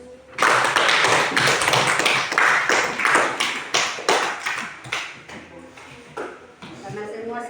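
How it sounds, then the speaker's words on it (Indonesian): Schoolchildren in a classroom applaud together, a burst of brisk, dense hand claps that starts suddenly, stays loud for several seconds, then thins into scattered claps as a voice speaks near the end. "kita di aplaus dulu"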